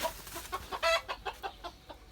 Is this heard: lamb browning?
no